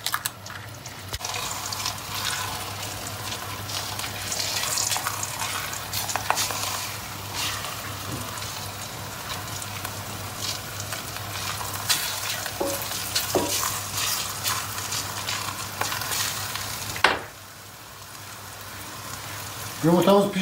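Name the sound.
egg cooking in an oiled pan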